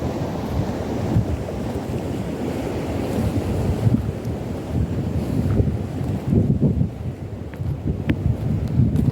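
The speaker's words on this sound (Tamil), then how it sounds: "பாருங்க எப்படி தண்ணி போயிட்டு இருக்குதுங்க." Floodwater rushes steadily after heavy rain in Saudi Arabia, a continuous loud churning roar of flowing water with wind buffeting the microphone.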